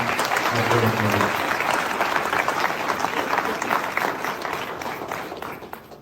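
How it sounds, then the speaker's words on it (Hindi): A crowd at a political party workers' rally claps loudly and steadily for several seconds, the applause slowly thinning toward the end, with a voice briefly audible near the start. "मैं उसके लिए एक बार चाहता हूँ, एक बार जोरदार तालियां।"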